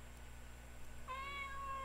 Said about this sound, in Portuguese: Olha, gatinho.